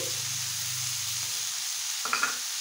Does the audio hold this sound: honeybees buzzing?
no